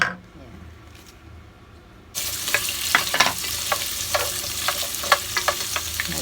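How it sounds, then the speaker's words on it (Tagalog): Carrots and potatoes start frying in a hot pan, a loud sudden sizzle that bursts in after a quiet lead-in and keeps hissing with crackling pops, close up. "iprito po natin yung ating carrots tsaka patatas para masaya ang buhay"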